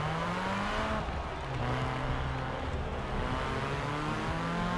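A car driven flat out in Forza Horizon 4, its engine revving loud and close with rising gear whines and shifts repeating through the run, no talk over it.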